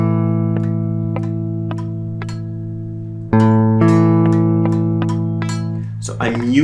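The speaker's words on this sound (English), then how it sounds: "So if I play this string by string, it would sound like this." A guitar power chord is picked one string at a time, with evenly spaced single notes ringing over a sustained low tone, then a louder chord and more plucked notes before a brief noisy strum or mute at the end.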